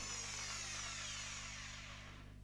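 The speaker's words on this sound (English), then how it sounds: "So with the wing on, I could drill these out." Power drill running continuously while drilling out screws on the body of a 1980 Opel Kadett rally car, a steady close whine with a low hum underneath, easing off slightly at the end.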